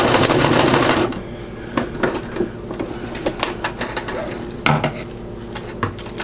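A sewing machine stitches around the circular edge of a G-tube pad, with a loud steady whir at first, then quieter stop-start bursts of stitching and small clicks as the fabric is turned and backstitched.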